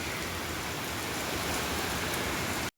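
Steady rain falls outdoors, a dense, even hiss of drops on surfaces that holds constant at moderate loudness and then cuts off abruptly, with no voices.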